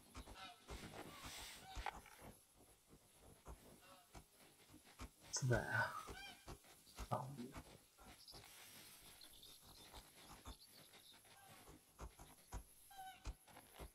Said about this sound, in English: I think that's the noise of geese.